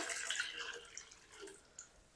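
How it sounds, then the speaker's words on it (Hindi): Water poured into a pan of cut potatoes, a soft splashing trickle that tapers off into light drips, close and fairly quiet. "अब हम इसमें शामिल कर देंगे पानी।"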